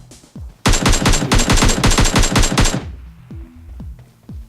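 Rapid automatic gunfire in PUBG Mobile rattles off in a dense, loud burst of closely spaced shots lasting about two seconds, followed by a few scattered softer sounds of gameplay.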